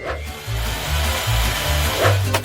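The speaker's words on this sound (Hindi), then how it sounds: "मैं यहाँ सब ड्रिल करूँगी।" An electric drill runs in bursts, a steady whirring motor drone that stops and restarts several times at close range, with a brief rattle near the end.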